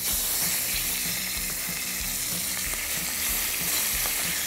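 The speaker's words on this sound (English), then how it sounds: "we're using canola oil because it has a higher smoke point and it won't burn when we're searing our steaks" Steaks sear in hot canola oil in a pan, giving a loud continuous sizzle and spatter that holds steady throughout with no one talking.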